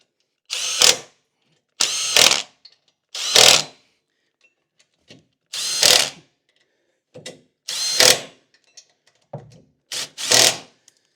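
A socket wrench tightens 15 mm nuts on a UTV snowplow mount, giving about eight loud, separate ratcheting bursts with short pauses and faint clicks between them, and no talking.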